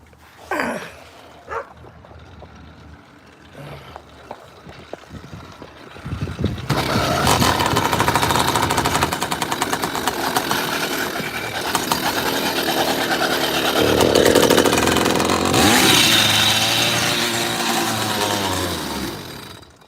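A custom motorized bicycle engine, run on degummed castor oil, fires up after a few faint pulls and settles into a loud, steady buzzing run that continues to the end, rising slightly in pitch midway.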